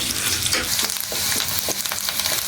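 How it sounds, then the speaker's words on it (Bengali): Chopped onions fry in hot oil in a pan, with a constant close sizzle and repeated scraping strokes of a stirring spoon. "দিয়ে দিচ্ছি কিছু পেঁয়াজ কুচিটা হালকা নেড়ে চেড়ে ভেজে নিব 5 মিনিটের মতো"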